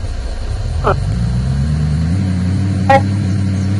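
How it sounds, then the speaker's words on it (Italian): Low engine hum of a car heard from inside the cabin, rising slightly in pitch as it accelerates, with brief faint squeaks over the drone. "scusate per quello che senti di guida"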